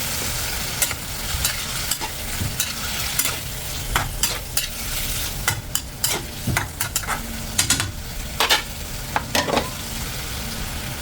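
Squid sizzles steadily in a hot pan for pusit adobo as salt goes in, with a spoon stirring and scraping in frequent short bursts over the constant close frying hiss.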